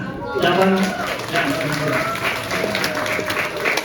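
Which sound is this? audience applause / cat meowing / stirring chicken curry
audience applause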